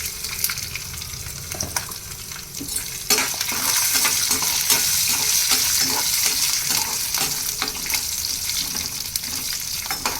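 Dried red chillies and asafoetida crackle and sizzle in hot oil for a tempering, with a spoon scraping and stirring the pan in repeated strokes and the frying hiss growing louder partway through.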